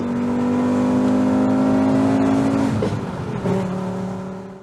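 A turbocharged Toyota MR2 with a VR5 engine revs loudly and steadily, a sustained droning engine note that holds high, then drops and wavers as the revs fall back, heard close with no talking.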